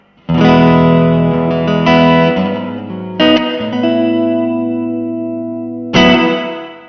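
Guitar chords played through a Limetone Audio Moonlight reverb pedal set to spring mode, three loud strummed hits each ringing out with a long, slowly fading wash of reverb, with no talking.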